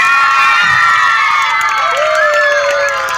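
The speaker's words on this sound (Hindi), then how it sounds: "शैला मैम के लिए ताली बजाइए आप लोग।" Children at a Children's Day school function cheer and shout loudly throughout, a dense excited crowd noise with little distinct clapping.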